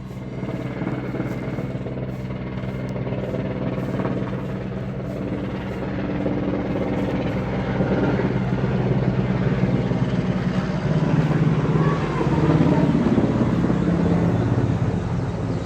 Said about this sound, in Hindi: हेलीकॉप्टर आ गया फिर से